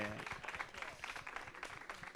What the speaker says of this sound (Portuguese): Salva de palmas para o João na iluminação.